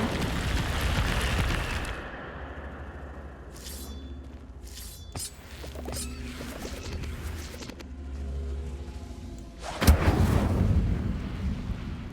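Incendio fire spell cast in a Harry Potter video game, a roaring burst of flame that dies into a spell of quieter crackling and glassy clinks, then a sudden sharp blast near the end followed by renewed rushing fire.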